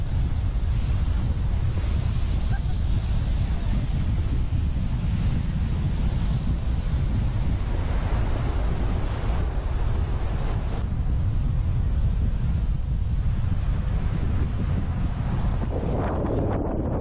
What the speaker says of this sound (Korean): 바다에서 파도 치는 모습들, 그 다음에 이 해변에서 바람 부는 것들, 그런 소리하고 모습들 보는 것만으로도 충분히 힐링이 되잖아요